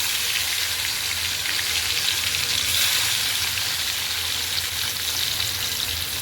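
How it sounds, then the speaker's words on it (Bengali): Pieces of katla, a pond fish, fry in hot oil with a steady, dense crackling sizzle that holds evenly throughout, close by and with no one talking. "তো তেলটা গরম হয়ে গেছে, এখন আমি মাছগুলোকে দিয়ে দেবো।"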